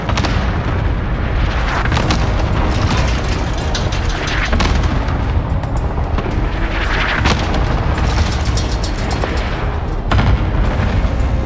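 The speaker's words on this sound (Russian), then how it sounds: "Начинаю обстрел кассетных мин." Cluster mine strikes rumble in Call of Duty: Warzone, a loud continuous barrage of deep booms and rolling blasts that overlap with no pause.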